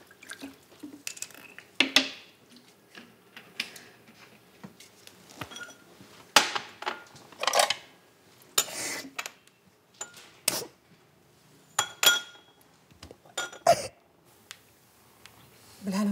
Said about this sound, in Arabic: هاتيلي كوبايه ميه واعملي لي كوبايه ميه بسكر مدام هدى.